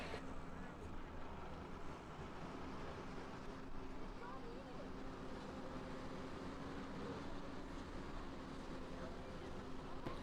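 A pulling tractor drags a sled down the track at an Adams County Fair tractor pull, its engine a steady, heavy droning roar that holds for the whole stretch without letting up.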